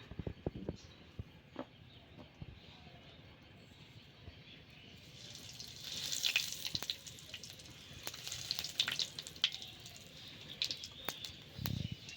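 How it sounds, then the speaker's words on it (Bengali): Black cumin seeds drop into hot oil while a Bengali bata fish jhal is being cooked. It starts quiet with a few light clicks, then a brighter, crackling sizzle swells up partway through and keeps going at a moderate level. "এবার আমি এই তেলের মধ্যে এক এক করে জিনিস দিয়ে দেবো। প্রথমে আমি কালো জিরে দিয়ে দেবো।"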